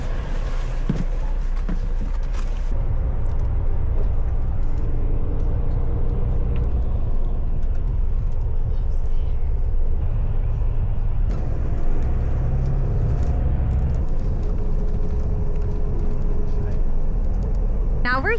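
In Morocco, a bus rumbles along the road with a deep, steady low engine drone and road noise. An air-brake hiss and some muffled voices sit beneath it.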